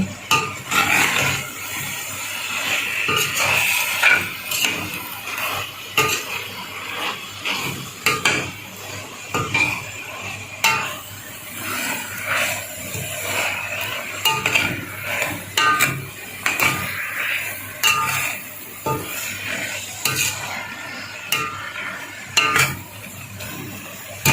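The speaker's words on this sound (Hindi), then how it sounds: "मैं पालक डाल रही हूँ, थोड़ी थोड़ी हम पालक डालते रहेंगे" Spinach added bit by bit and stirred in a cooking pot for a potato-spinach dish, with continuous clattering of a spoon against metal and faint sizzling, steady and close, without talk.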